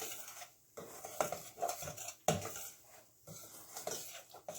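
Flour mixture stirred in a pan on low heat for homemade white pasta sauce, with close scraping and clinking of a utensil against the pan in uneven bursts.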